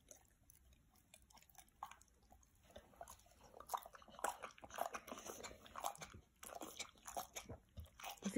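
A dog crunches a blueberry in quick, faint, close bites, with irregular chewing clicks and soft smacking that grow a little busier partway through, all very quiet with no talk.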